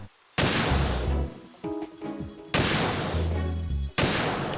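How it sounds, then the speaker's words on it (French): Loud gunfire in Metal Gear Solid 2 in several sharp bursts, each blast followed by a noisy tail, with brief metallic clicks between volleys. "il entend pas mes coups de feu"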